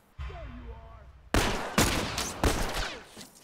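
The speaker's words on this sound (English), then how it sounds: "Shoot him!" Gunfire in The Last of Us video game: after a short burst of speech, three or four loud, sharp gunshot blasts ring out in quick succession, each with a trailing echo.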